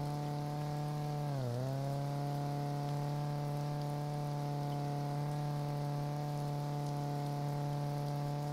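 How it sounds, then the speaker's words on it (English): A video game vehicle engine with a chainsaw-like buzz holds a loud steady tone, briefly dipping in pitch early before settling, over a constant hiss of rain. "Vehicle sounds like a chainsaw."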